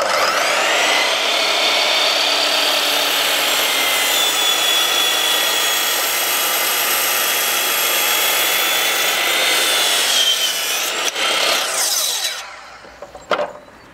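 A Bosch GCM 12 miter saw slices through a piece of wood at a 45-degree angle, a loud sustained high whine held for about ten seconds, then the blade winds down with a few clicks and knocks as it stops.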